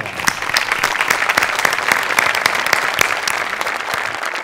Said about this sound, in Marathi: आमिर, तुझ्यासाठी उभं राहून टाळ्या.